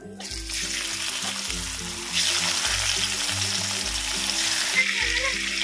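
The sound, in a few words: tangra fish frying in hot oil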